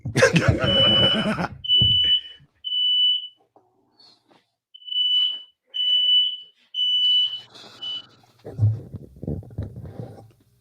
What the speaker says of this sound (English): My smoke alarms don't like weed smoke.